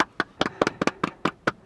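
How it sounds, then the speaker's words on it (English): Nine sharp hand claps in an uneven rhythm, close and clear, with brief pauses between them and no talking. "Clapping, isn't it?"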